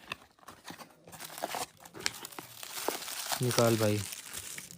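Plastic packaging crinkles and tears while a parcel is unboxed, crackling steadily under nearby talk.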